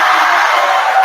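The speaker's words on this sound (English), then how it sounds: "It feels like we have this cheer competition." An audience cheering loudly and continuously, a steady wash of excited crowd voices with no pauses.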